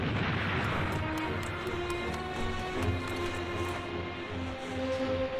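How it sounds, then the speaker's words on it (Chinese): Rapid gunfire crackles through a war drama battle scene, a sustained rumbling volley of shots with low booming undertones, fairly loud and continuous with no voices over it. "军长，不知道哪儿传来的枪声。"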